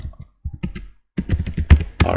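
Computer keyboard being typed on: close, clicky keystrokes in a brief burst, a short pause, then a quicker flurry of taps ending in a heavier key press.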